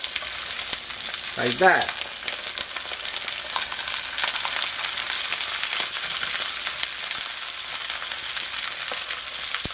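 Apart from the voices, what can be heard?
artichokes browning face down in olive oil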